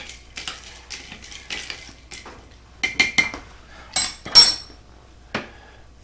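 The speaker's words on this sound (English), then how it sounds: "we'll go ahead and just stir this a little bit" A utensil stirs food in a pot in a home kitchen, giving irregular metallic clinks and scrapes, some sharp and loud, over a faint low hum with no talking.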